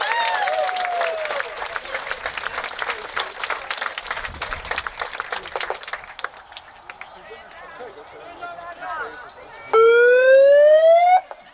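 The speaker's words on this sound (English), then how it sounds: "Give him a big round of applause." Rally crowd applauding and cheering for Phil Scott, loud and dense for about six seconds, then fading into murmur and scattered voices before a siren-like tone rises at the end.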